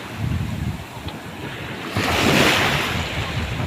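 Surf washing onto a pebble beach in Jagna, Bohol, with a low rumbling wash that swells into a louder breaking surge midway, heard close and without speech, under some wind noise.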